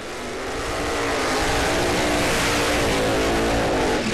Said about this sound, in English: here come the top alcohol funny cars in a prime time matchup